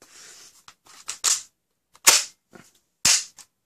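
Plastic toy Glock shell-ejecting blaster with a smooth, resistance-free slide, racked by hand: a few quiet rattles followed by three sharp, close plastic clacks spaced about a second apart, with no talking.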